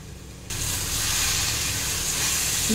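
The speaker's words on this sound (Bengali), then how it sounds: "আবার একটু কিছুক্ষণ নাড়াচাড়া দিয়ে নেব, 2 মিনিট ধরে এইভাবে নাড়াচাড়া দিয়ে নেব।" Young jackfruit curry sizzles and hisses in a hot pan as it is stirred, with the frying noise jumping up abruptly and then holding as a loud, close, continuous hiss.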